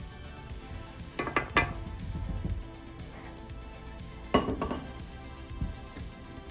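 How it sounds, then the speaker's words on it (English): Cream cheese being beaten by hand in a bowl for cream cheese banana bread, with a few scraping clinks of utensil against the bowl in two short bursts amid quiet. "we're going to beat this cream cheese to make it nice and soft"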